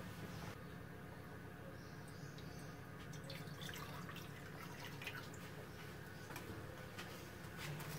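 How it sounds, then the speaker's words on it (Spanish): Hot water fills an oven-proof mould three-quarters full, a steady close trickle and patter of liquid with faint drips over about eight seconds, with no talk. "ponemos hasta 3/4 con agua caliente"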